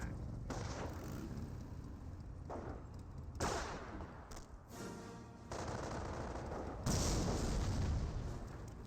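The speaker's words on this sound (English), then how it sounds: "Mortar does connect with the obstacle course, blowing a couple of the riflemen up." Mortar shells and gunfire in the Company of Heroes 1 video game, a steady barrage of dense booms and rattling shots, with louder blasts around the middle and near the end.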